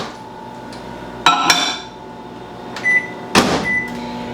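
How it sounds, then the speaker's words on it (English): A kitchen microwave oven set to melt chocolate gives loud, close clicks and clunks as its door and buttons are worked, with short electronic beeps and a low steady hum underneath. "Let's put this in the microwave on the chocolate melting setting."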